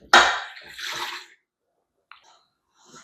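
Apple cider vinegar, one and a half cups, is dumped into a pot of lemon drop pepper jelly, giving a short splashing pour that trails off into silence, followed by a faint clink and another brief sound.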